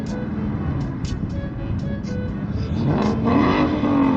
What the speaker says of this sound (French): il y a une Mustang. Écoutez ce truc.